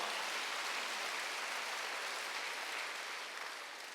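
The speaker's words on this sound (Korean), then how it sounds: "박수." A church congregation at a Wednesday service applauds together, a dense steady wash of clapping that holds level before easing slightly toward the end, with no voices over it.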